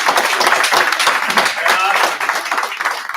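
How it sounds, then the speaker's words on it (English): Applause for coaches at a city council meeting, a dense patter of clapping from the people in the chamber lasting a few seconds, with voices mixed into it. "how about a round of applause for our coaches that made all this happen"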